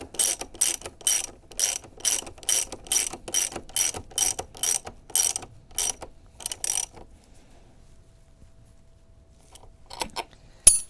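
A hand ratchet clicks in fast bursts while tightening exhaust fittings on a Honda NC750X during a GPR exhaust install, a dozen quick close strokes, then a pause and a couple of short final clicks.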